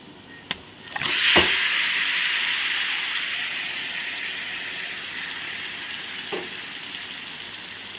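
Marinated chicken tipped into a pan of golden-fried onions sets off a loud, sudden sizzle that settles into a steady hiss of frying, with a couple of brief clatters at the start and near the end.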